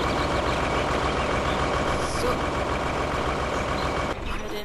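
A truck engine in the farming video game Farming Simulator 2013 runs with a steady, loud mechanical drone throughout, its tone shifting slightly near the end, while a voice speaks briefly over it.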